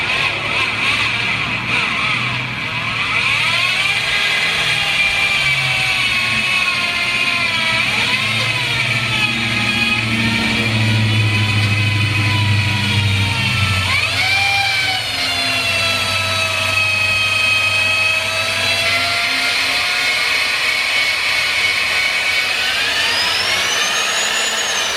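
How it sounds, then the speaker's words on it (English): A half-inch reamer lubricated with WD-40 cuts through a steam engine governor part in an old steam-powered machine shop: loud, continuous squealing tones that glide up and down in pitch over a steady mechanical drone, with no talking. "now I'm going to run a 1/2-inch reamer in here to give it a little clearance"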